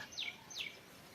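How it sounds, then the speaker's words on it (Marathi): Two brief, high sparrow chirps sound faintly in quick succession against near silence in a Konkan forest. "हे बघा चिमण्यांचे आवाज"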